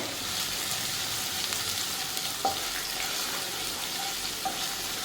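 Chopped green chilies frying in a pan for chilli chicken: a strong, continuous sizzle close up, with a few faint clicks of stirring.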